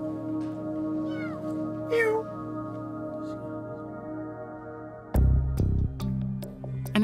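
A trapped kitten fallen down a downspout gives high, wavering meows in two short bursts, followed by a louder low thump and rumble.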